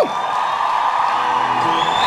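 Audience at the 2017 Cabo Verde Music Awards gala applauding and cheering as a performer is welcomed, a loud sustained crowd roar with whoops and shouts, continuous throughout.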